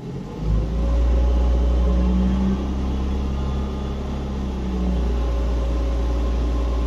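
A car engine with a scanner plugged in, rising from idle at about 830 rpm to a steady higher hum near 1700 rpm, a low continuous rumble with no talk.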